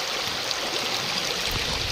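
Forest stream water runs into a bottle held in the current at a camping spot in Uttarakhand, India, a constant close burbling rush that stays steady and loud.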